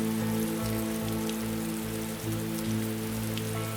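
Steady rain falls continuously, a dense hiss of drops pattering on surfaces with a low hum underneath.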